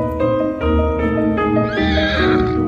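A horse whinnies loudly and at length, its neigh rising and wavering, over steady clip-clopping hooves, close and with no voices.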